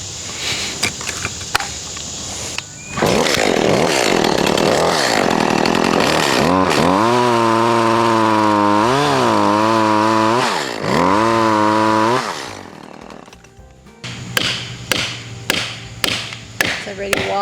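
A chainsaw cuts into a leaning tree, revving hard and loud up close with repeated rising-and-falling engine surges, then dropping to idle before a series of sharp thuds and knocks.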